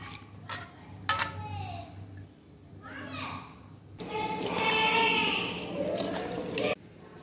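Water runs and splashes from a tap into a kitchen bowl while dal and rice are rinsed for soaking, with clinks of utensils, short bursts then a longer louder pour, and a voice talking between.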